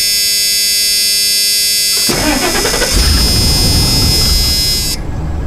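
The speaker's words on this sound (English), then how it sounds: "Let's go ahead and see how it fires up." A 1998 Ford Econoline E350 van with 250,000 miles starts up: a steady electrical hum, then a brief crank as the engine catches and settles into a loud, even idle close by, with no talking.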